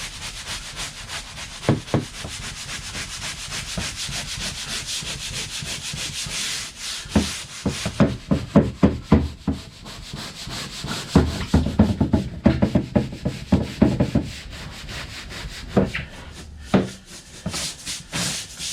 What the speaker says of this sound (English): Make sure it's rubbed into all the grain, make it even.